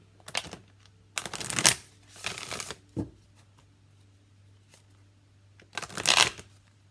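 Modern Love Tarot cards are shuffled in several quick riffling bursts, close and fairly quiet, separated by short silences and a soft tap, with a low steady hum underneath.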